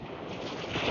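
Warm northerly wind buffets an outdoor microphone in the evening, a steady low rumbling roar with no breaks, faint and continuous for under a second.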